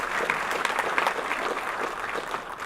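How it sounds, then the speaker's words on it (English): Audience applause at a city's State of the City address fills the room with a steady, moderately loud wash of many hands clapping, without any voices over it. "Give them a little applause"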